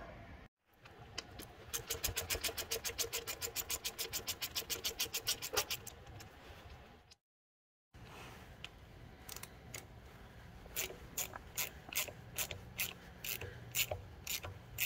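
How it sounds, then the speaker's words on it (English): A quarter-inch ratchet clicks rapidly in close bursts while loosening pump bolts on a Caterpillar RD-4 engine during disassembly, with brief pauses and later shorter runs of ratcheting and clanks. "I'm using a quarter inch ratchet, not a 3 8 right here."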